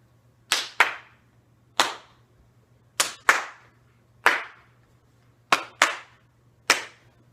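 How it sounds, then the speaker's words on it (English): Sharp hand claps during a dance tutorial ring out alone in a quiet room, nine crisp claps in an uneven rhythm, several in quick pairs, over a faint low hum. "So now I'm going to do the first part with the clapping"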